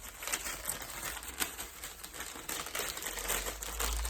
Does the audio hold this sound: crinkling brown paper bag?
yes